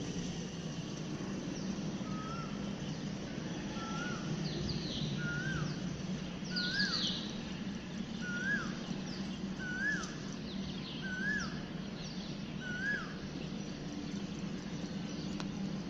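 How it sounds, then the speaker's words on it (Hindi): An Asian koel repeats its rising call about a dozen times at a steady pace, moderately distant, over a low rural hum with insect-like background hiss and no talk. "मुझे जो है ना बहुत प्यारी लगती है कोयल की आवाज़"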